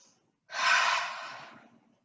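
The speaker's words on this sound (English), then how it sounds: "One more breath." A single audible breath during a yoga exercise, a breathy exhale close to the microphone that starts abruptly and fades over about a second.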